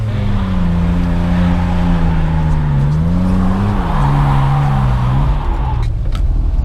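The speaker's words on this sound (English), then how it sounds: "I'll rev up to 6K and then dump it, and then I'll try to do a little manji right here." A car's engine revs high and holds near 6000 rpm for a drift clutch kick, a loud close droning roar with wavering pitch, then a sudden drop and clatter as the clutch is dumped.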